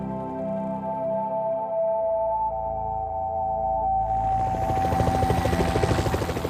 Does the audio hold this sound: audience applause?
no